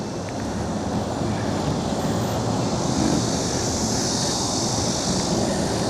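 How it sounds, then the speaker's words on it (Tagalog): Steady rushing headwind buffets the microphone throughout, a constant loud roar with no pauses and no voices. "Salubong po ngayon ng hangin."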